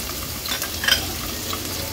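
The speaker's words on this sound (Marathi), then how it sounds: "मिरची आणि लसूण तेलावर थोडं परतून घ्यायचंय।" Green chillies and garlic cloves sauté in about three tablespoons of hot oil, a dense continuous sizzle with a brief crackling burst midway and faint stirring, close and without talk.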